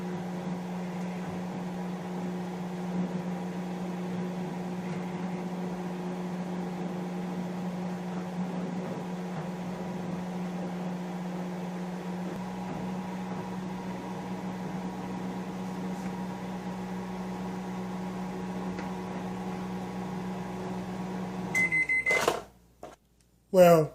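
A microwave oven heats a bowl of dry noodles with a steady low electrical hum that runs unbroken for most of the clip, then cuts off near the end, followed by a few sharp clicks.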